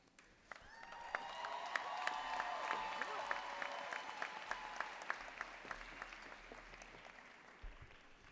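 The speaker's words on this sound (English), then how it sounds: "That was one of the weakest rounds of applause I've heard in a long time." A graduating class and audience at a 2016 Merritt College commencement give a thin round of applause, scattered distinct claps over a soft crowd hum, fairly distant and fading out after several seconds.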